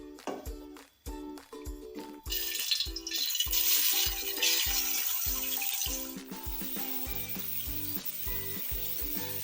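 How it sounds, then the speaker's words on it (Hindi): Chicken pieces dropped into three tablespoons of hot oil, giving a steady, bright sizzle that rises after the first couple of seconds and holds, heard under continuous rhythmic background music. "3 टेबलस्पून ऑयल, फिर हम इसमें डालेंगे चिकन"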